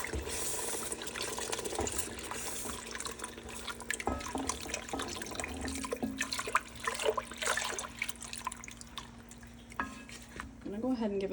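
Whole milk poured into a cooking roux, a steady liquid pour with light splashing and stirring, close and moderately loud, with a few clinks of a utensil toward the end.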